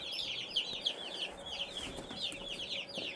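Young chicks peep constantly in a sawdust-bedded brooder under a heat lamp, their high chirps overlapping in a steady chorus against a low background hum.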